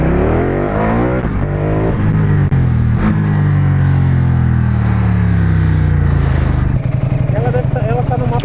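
Ducati motorcycle on Pirelli tyres leaning through a corner at a racetrack, its engine note loud and close, rising and falling in sweeping revs before settling into a steady drone.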